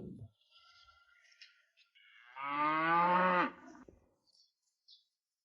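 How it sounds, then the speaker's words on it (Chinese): A single cow on a cattle farm with rotating pasture lets out one long, close moo, surrounded by quiet stretches and a few faint clicks. "我带您去看看牛吧"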